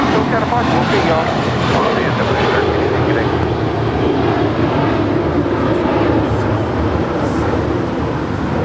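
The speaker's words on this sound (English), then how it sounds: "Qatar Airways Flight 739 coming in from Doha. It's an A350-1000." A Qatar Airways Airbus A350-1000 arriving from Doha at LAX produces a loud, continuous jet roar, with radio-style voices talking over the engine noise.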